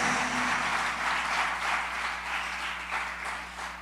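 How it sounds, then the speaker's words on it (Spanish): A church congregation breaks into loud, sustained applause for the Lord during a sermon, a dense, even roar of clapping from many people that fades slightly toward the end. "Creo que esto merece un aplauso fuerte al Señor."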